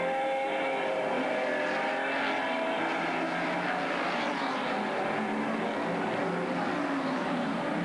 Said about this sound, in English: Ron Goodison with a little extra horsepower jumps into the number 2 spot.